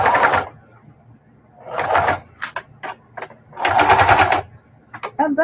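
A domestic sewing machine stitches a mitered quilt binding in several loud bursts of rapid, rattling needle strokes, separated by brief pauses and short stop-start runs near the end.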